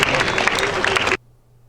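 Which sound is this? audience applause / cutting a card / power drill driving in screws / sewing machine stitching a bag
audience applause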